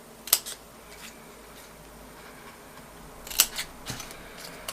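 Scissors cutting craft card give two sharp, close snips about three seconds apart, with a few softer scraping sounds after the second one, in an otherwise quiet room with no talk.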